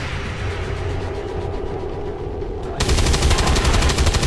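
Sustained gunfire in the tactical video game XCOM 2: a dense, loud stream of rapid shots that grows heavier and brighter partway through, with no talk over it.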